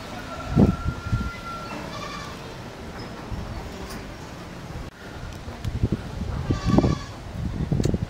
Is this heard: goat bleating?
yes